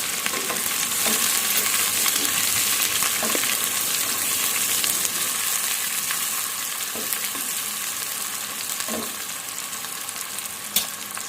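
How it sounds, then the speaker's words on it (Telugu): Green chillies and chopped onions fry in a pan for a curry, giving a loud, close, continuous sizzle with a few faint stirring clicks and no voices. "తర్వాత పచ్చిమిర్చి, కట్ చేసి పెట్టుకున్న ఆనియన్స్ కూడా వేసుకోవాలి. కాసేపు వేగనిద్దాం."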